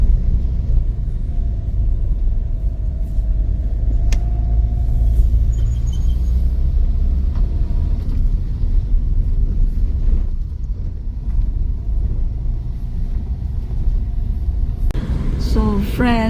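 Vehicle engine running with a heavy, continuous low rumble, loud and close, with occasional clanks and a brief burst of voices near the end.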